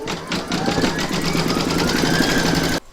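Embroidery machine stitching through batting in the hoop for a stacked Christmas tree, a steady rapid mechanical chatter with a faint rising whine, loud and close, running for several seconds before stopping abruptly.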